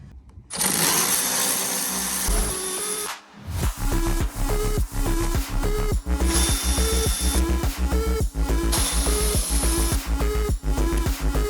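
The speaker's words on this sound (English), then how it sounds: "I'm just going to take off that bolt right there on each side" Under a truck, a power tool loosens a brace bolt in loud, close bursts of rapid mechanical rattling and hammering, with a brief pause early on and repeated pulsing runs afterward.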